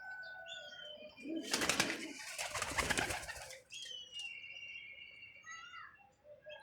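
Pet pigeons kept by a hobbyist coo and chirp nearby. A loud flurry of flapping wings bursts out in the middle, then soft calls continue.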